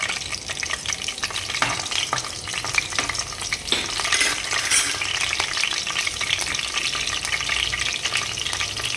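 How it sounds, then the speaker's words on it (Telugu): Green chili and onion pieces fry in hot oil for a pessara punukulu pulusu, a steady close sizzle with crackling bursts and occasional stirring scrapes, no talking. "నూనె వేడెక్కాక ఉల్లిపాయ ముక్కలు వేసుకుందాం, పచ్చిమిరపకాయలు."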